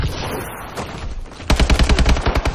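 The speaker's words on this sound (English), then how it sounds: "we need to reload and we're being shot at from behind." Rapid automatic gunfire from the video game Call of Duty Advanced Warfare, a rattling burst of evenly spaced shots that starts abruptly midway and continues loud and close, preceded by a dense murmur of game noise.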